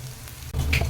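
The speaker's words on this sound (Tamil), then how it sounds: "நல்லா ப்ரௌன் கலரில் ஆகிற வரைக்கும் வெங்காயத்தை ஃப்ரை பண்ணிக்கலாங்க." Onions fry in a pan until golden brown for a Tamil chicken gravy, giving a steady close sizzle with a brief stirring scrape partway through.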